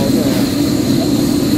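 A parked airplane's engines drone loudly and steadily while passengers board, a constant broad hum with an even, unbroken texture.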